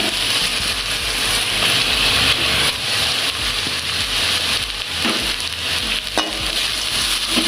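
Carrots and cut chillies are stirred in hot oil in a frying pan, a steady loud sizzle with continuous scraping and rattling of the spatula, close up and without voices.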